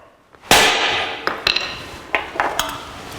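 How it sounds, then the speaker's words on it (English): A hard metallic strike of a hammer on a center punch rings out, followed by several lighter, irregular taps of hammer on metal, close and sharp with brief ringing decay. "and hit that with a hammer."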